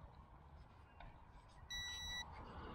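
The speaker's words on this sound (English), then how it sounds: "Double beep." During calibration, an SHRC iCamera 2 5G WiFi FPV drone gives a single clear, loud electronic tone lasting about half a second, over faint background noise and a soft click.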